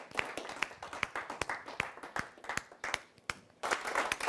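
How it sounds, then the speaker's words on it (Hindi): An audience at a Hindi hasya kavi sammelan on Valentine's Day claps to welcome a poet onstage. The applause is close and uneven, with bursts of individual claps rising and falling for several seconds and no voice over it. "तो एक बार जोरदार तालियों के साथ स्वागत करते हैं डॉक्टर"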